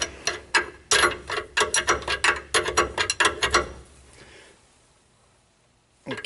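A sample valve fitting on a bypass oil filter setup for a 2001-2010 Chevrolet Duramax diesel is turned by hand, giving a quick run of close, crisp ratcheting clicks for about four seconds before falling quiet.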